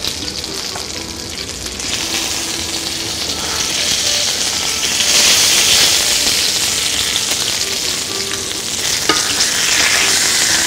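Food fries in a covered pan, giving a loud, steady sizzle and crackle of hot oil that swells slightly midway and carries on without any talk.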